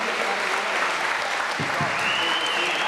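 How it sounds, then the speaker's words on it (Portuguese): Applause for a choir at a ceremony, a continuous wash of clapping throughout, with a voice faintly audible under it. "Mais uma vez, uma grande de palmas"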